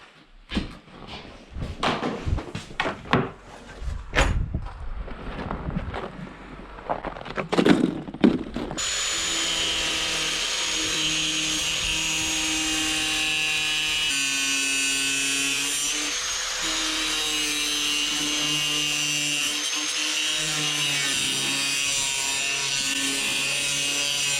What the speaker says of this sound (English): I found the best way to cut this plastic roofing material is with a grinder or a skill saw with a metal cutting blade